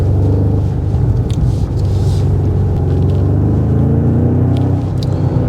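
Deep, steady engine rumble and road noise fill the cabin of a 2025 BMW M5 G90 while driving, a continuous low drone with slight swells and no talk.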